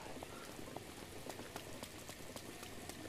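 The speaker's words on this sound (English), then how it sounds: "It rains a lot in this game." Steady patter of rain in the video game Breath of the Wild, with scattered droplet ticks, fairly quiet and continuous, no voices.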